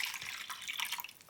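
Water being poured into a humidifier tank during cleaning, a faint, brief trickle and splash with small bubbling drips.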